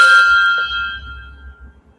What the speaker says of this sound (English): Oh, that's the gong.